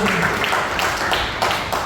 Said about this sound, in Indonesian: Boleh kita berikan tepuk tangan sorak-sorai yang meriah bagi Tuhan